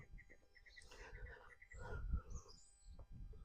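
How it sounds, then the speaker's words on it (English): Outdoors by a canal towpath, a songbird chirps in quick repeated notes, faint and somewhat distant, under wind noise and soft talk from people nearby. "Lively bird."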